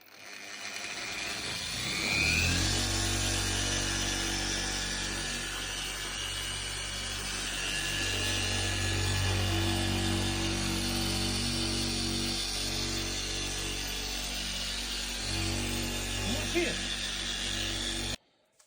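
A polishing machine working a RAV4 headlight, a steady close motor hum that spins up after a couple of seconds and holds at an even drone with faint rubbing, then cuts off at the end.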